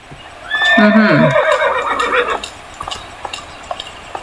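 A horse neighs in the video game Alexandra Ledermann 4: one loud, drawn-out whinny with a wavering, falling pitch. It is followed by a quiet background with a few soft clicks.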